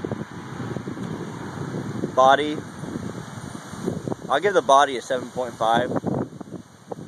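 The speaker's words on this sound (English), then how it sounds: "sorry about the wind." Gusty wind buffets an outdoor microphone in low rumbling bursts, continuous under a man's close speech throughout.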